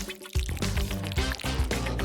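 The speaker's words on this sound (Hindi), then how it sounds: "इसमें से जितना भी जेल होगा वो सारा ब्लेंडर में चला जाएगा।" Thick aloe vera gel pours from an opened leaf into a blender, a wet, gloopy stream of close splashes and drips running almost without pause.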